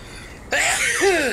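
A single sharp sneeze bursts out close and loud over quiet background game sound, followed by a brief vocal tail.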